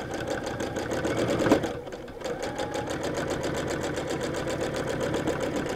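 Sewing machine free-hand quilting with Mettler metallic thread, running at a steady medium speed, its rapid rhythmic stitching loud and close, with a brief pause in the middle before the needle picks back up.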